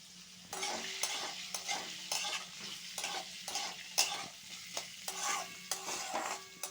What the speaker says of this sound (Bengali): আলুটা গাজরটা ছোটো ছোটো করে কেটে রেখেছি, এগুলোও ভেজে নিচ্ছি একসাথে